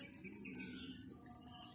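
A pet bird named Yuki gives a series of high, thin chirps in the early morning, repeated in quick bursts and fairly faint, with no one talking.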